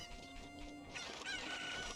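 Chickens cluck in a steady game-like loop in The Legend of Zelda: Ocarina of Time, with a rooster-like call rising over the flock noise, no talking.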